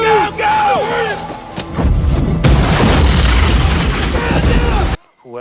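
A film explosion erupts loud and close after shouted battle voices, with a sustained rumbling roar of blasts and debris before cutting off abruptly.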